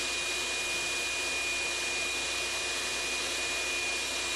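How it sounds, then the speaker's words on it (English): A shop vacuum with a smaller hose and attachment runs steadily in a workshop bench area, a constant loud broadband whine and rush with no breaks and no voices. "I've recently changed my shop vac to have a much smaller hose, smaller attachment"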